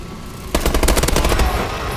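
Rapid automatic gunfire in Call of Duty: Advanced Warfare, a single loud burst of fast shots lasting about a second over steady background game noise.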